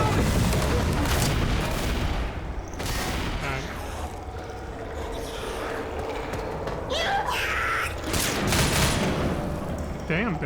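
Pipe bomb blasts and heavy gunfire in Left 4 Dead mix into a dense, loud, continuous barrage, with bursts and booms overlapping and voices shouting throughout.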